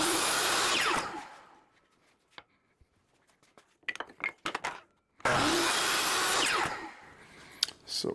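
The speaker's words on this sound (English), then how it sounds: "we're going to cut these sides at a 45 to start forming the tree." A saw bites through 3/4 inch wood stock at a 45-degree angle, two loud, sustained cutting passes separated by a quiet gap with scattered clicks and knocks of handling the pieces.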